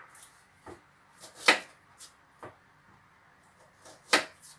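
Red onions are sliced with a knife on a cutting board for a chicken breast steak dish, giving several crisp, close chopping taps at irregular intervals, two of them louder, with no talking.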